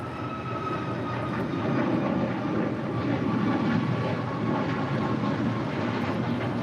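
An airplane at LAX roaring on the runway during takeoff, with a loud, steady, broadband engine rumble and a whine that holds evenly throughout.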